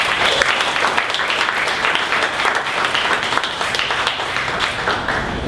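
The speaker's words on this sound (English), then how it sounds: "One more round of applause." A seated audience at a startup pitch event gives a steady, full round of applause, many hands clapping close and evenly for several seconds without speech.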